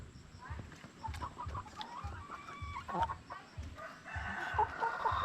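Young hens close to laying age cluck and murmur nearby in a steady, irregular chatter, with occasional louder calls and background farmyard noise.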